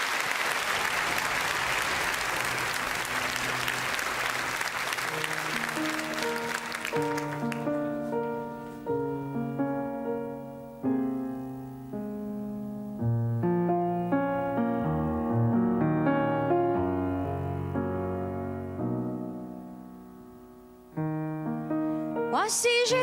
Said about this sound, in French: Je vous demande de l'applaudir et de l'accueillir.